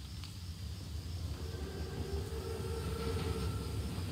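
A German armored train, a Panzerzug, rolls past in the Call of Duty WWII game, a steady low rumble of heavy rail cars with faint wheel tones that builds slightly louder toward the end.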